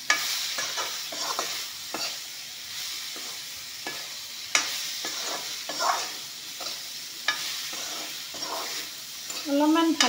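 Vegetables frying in a pan with salt, a soft continuous sizzle broken by repeated scraping stir strokes of a spatula, close and moderately loud, with a brief clatter near the end.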